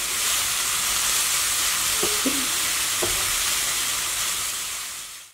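Grated beetroot sautéing in a pan for beetroot vadai, giving a steady, fairly loud broadband sizzle with a couple of faint clinks of a spatula against the pan, no talking.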